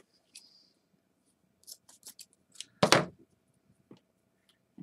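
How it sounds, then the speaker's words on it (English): Scissors snip through ribbon for a handmade ribbon doll, with a few quiet, scattered clips and one louder close cut in near silence. "I'm going to cut those in half"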